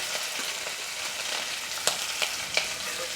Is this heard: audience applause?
no